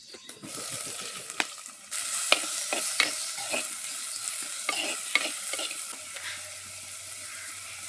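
Curry stirred and frying in a pot over a village mud stove, a steady sizzle broken by repeated scraping strokes of a spoon, close and clear with no talking.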